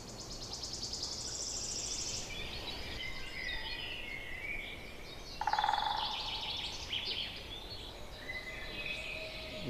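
Birds chirp and call outdoors beside a river in Pomiechówek, with scattered high tweets over a constant insect-like hiss, one louder nearer call midway, no voices.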